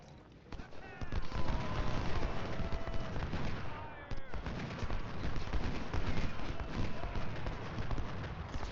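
Rattling musket volleys and cannon fire in a Civil War strategy game's small firefight at the Battle of Bull Run, dense and continuous crackle of shots through the whole stretch with a brief pause near the middle.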